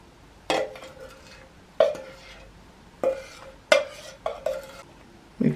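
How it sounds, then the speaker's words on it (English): Gingerbread batter being stirred as treacle syrup mixture goes into flour, giving five or six separate scraping, clinking strokes of a utensil against a bowl, close and moderately loud, with quiet gaps between them. "Add the treacle syrup mixture to the flour."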